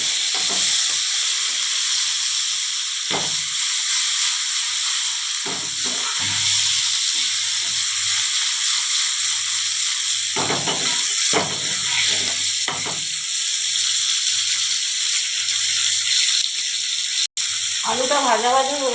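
Boiled potatoes and tomato pieces frying in oil in a pan, a continuous close sizzle and hiss running throughout with occasional clattering stirs, while a voice talks intermittently over it.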